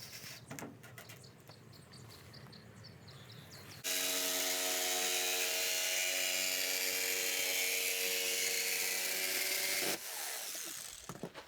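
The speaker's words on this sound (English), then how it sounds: "to cut this stuff, I use a jigsaw right now" A jigsaw cuts an enclosed trailer's siding panel, a loud buzzing whine that starts abruptly and runs steadily for about six seconds before stopping, with faint handling clatter before and after.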